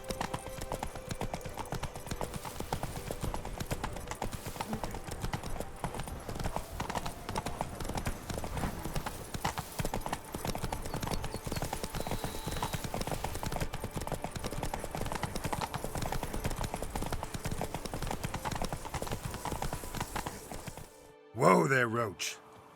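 Roach, Geralt's horse in The Witcher 3: Blood and Wine, gallops with steady, rapid clip-clop hoofbeats close up for a long stretch, then slows at the end under brief speech.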